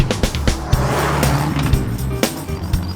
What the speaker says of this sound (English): in my little Riley that you fettled and is now running like a Swiss watch